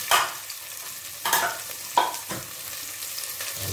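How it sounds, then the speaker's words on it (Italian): Olive oil and basil in a pot give a soft, close cooking sizzle. A few sharper stirring clatters and scrapes land near the start and middle, and no one speaks. "Ho messo un po' d'olio d'oliva, un po' di basilico sulla pentola."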